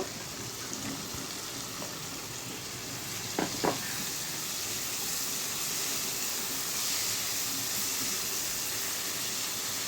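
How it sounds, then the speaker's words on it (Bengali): Eggplant goes onto a sizzling spice paste for a fish curry, making a soft, continuous frying hiss with two brief stirring clatters near the middle and no voices. "মশলাটা মোটামুটি আমার কষানো হয়ে গেছে এর উপরে আমি বেগুনগুলো দিয়ে দিব"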